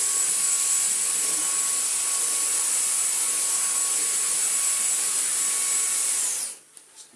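A Henry Quick vacuum fitted with a Dyson V11 High Torque head runs on boost with a loud, steady whining roar and a high tonal whistle, then winds down sharply near the end into quiet.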